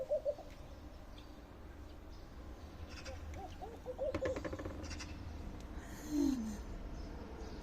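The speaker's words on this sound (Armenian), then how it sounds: "Ձենը լսեք աղունակների, առավոտ շուտ" Early-morning doves near a window box where one has nested give a few soft, low coos at a distance, spaced out over faint ambient hiss with a short throaty call near the end.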